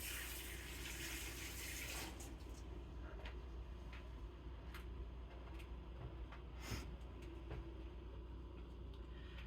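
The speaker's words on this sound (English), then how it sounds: "I'm going to go ahead and wash my hands again." Hands washed under a running kitchen tap: a steady, close rush of flowing water with faint splashes and rubbing, continuing throughout.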